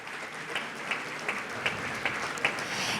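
Audience applause at a public forum on overcoming poverty, heard as faint, evenly spaced claps over a soft hiss rather than a full ovation.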